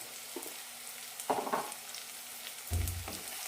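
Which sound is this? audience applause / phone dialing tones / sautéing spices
sautéing spices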